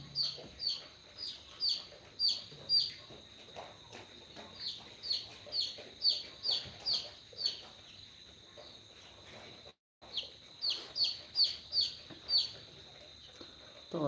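Quail call repeatedly in quick, high chirping bursts, a rhythmic series that pauses briefly before resuming, close by with faint background rustle.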